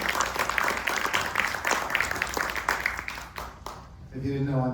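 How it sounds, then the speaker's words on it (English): A theatre audience claps loudly and steadily after a performance of A Beautiful Mess at The Broadwater MainStage, then the applause fades and a voice begins speaking near the end. "Another round of applause for this amazing"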